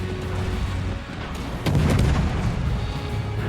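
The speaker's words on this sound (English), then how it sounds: "I'm getting shot at by these." Naval gunfire in World of Warships while a tier 1 cruiser, the Hermelin, comes under fire, heard as heavy booming blasts over a constant low rumble of engine and sea noise, with one louder impact midway.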